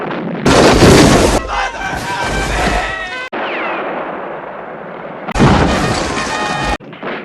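Heavy gunfire and explosions roar in a wartime battle as troops fire on approaching tanks, loud booming bursts at the start and again near the end, with shouting voices and ringing tones between blasts.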